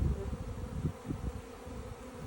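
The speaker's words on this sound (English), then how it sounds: "what they do when they swarm is they all just cluster around the queen to protect" A honeybee swarm clustered around a queen in a box on a tree branch, giving a steady low hum of many wings, close and continuous, with a few louder passes from individual bees.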